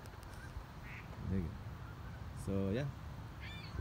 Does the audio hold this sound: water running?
no